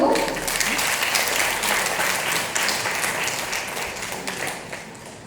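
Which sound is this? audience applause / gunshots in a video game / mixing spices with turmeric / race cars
audience applause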